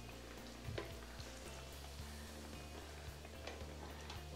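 Fry bread dough frying in hot oil, a steady close sizzle and crackle with small pops scattered through, no voices.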